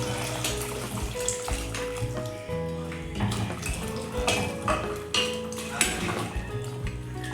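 Cooked goat meat curry poured out of a pressure cooker into another vessel, a close, continuous wet sloshing and pouring with metal scraping and clinks of the pot throughout.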